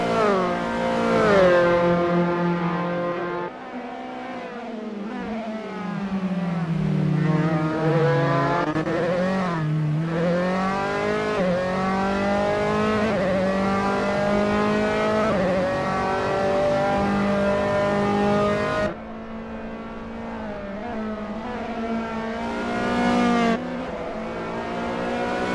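Dallara F312 open-wheel race car engines in the Assetto Corsa racing game at Dragon Trail Gardens, loud high-pitched revving that climbs and drops through gear shifts, sustained and close for the whole stretch.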